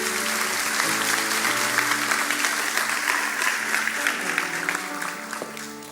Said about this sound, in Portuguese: Dê o melhor aplauso que você pode dar ao Senhor, por favor.